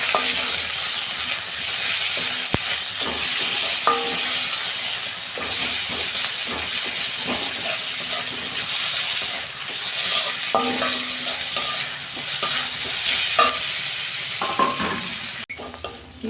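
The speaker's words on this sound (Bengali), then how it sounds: "পেঁয়াজটা ভাজা হয়ে গেছে।" Onions frying in a pan while being stirred, a loud, constant sizzle with repeated scraping and clinking of the spatula across the whole stretch, ending abruptly; no one talks.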